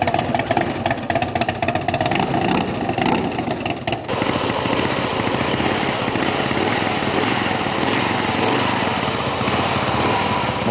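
Motorcycle engines at a motorcycle enthusiasts' gathering in Uberaba, a steady loud mechanical drone with overlapping revving, busier and more uneven through the first few seconds, then a continuous rumble to the end.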